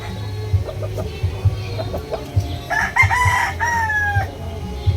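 A fighting gamecock with smooth, clean plumage crows loudly and close by in a farmyard setting, its drawn-out call rising over a steady low background of clucking and other fowl.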